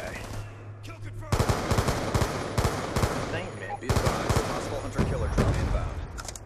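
Rapid automatic gunfire from the video game Call of Duty Black Ops 2, loud and sustained in repeated bursts across a multiplayer Hardpoint match, with a person talking over the shooting.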